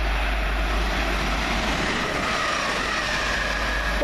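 An Arriva Trains Wales passenger train running through Sandbach station on its Manchester Piccadilly to Milford Haven service: a loud, steady, close rumbling roar of wheels and engine that lasts throughout.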